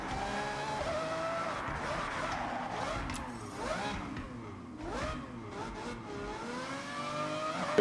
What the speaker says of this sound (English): this car sounds literally perfect